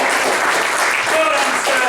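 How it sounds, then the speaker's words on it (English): An audience applauds just after a lot is sold at a livestock auction, with dense clapping that fills the room. Loud, even applause with a voice faintly audible in the mix. "Round of applause."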